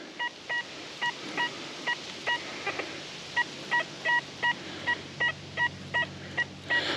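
An XP Deus II metal detector gives a clean, repeating target signal, a series of short two-tone beeps in a steady rhythm, sounding alone over a faint background hiss.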